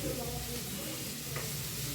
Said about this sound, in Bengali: এখানে এই যে দেখো আমি এখানে করলা ভাজা ছেড়ে দিয়েছি